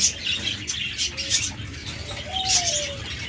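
Caged pet birds, lovebirds, budgerigars, cockatiels and doves, chirp and tweet in a busy mix, with soft cooing and a few brief whistled calls over a low background hum.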